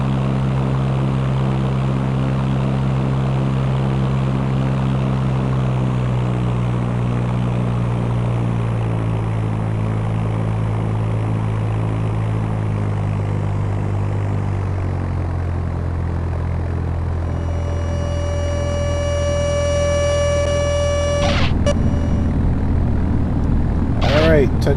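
A propeller airplane touches down in the flight simulator game Fly! II, its steady engine drone gradually dropping in pitch, with a clear tone joining near the end before a brief burst of noise.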